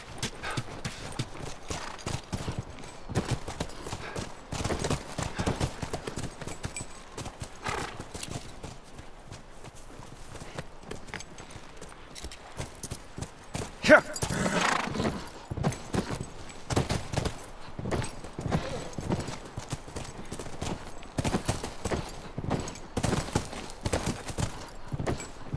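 Horse hooves clip-clop steadily through a video game scene from The Last of Us, a continuous run of near, fairly loud hoofbeats with occasional louder thumps and no talking over them.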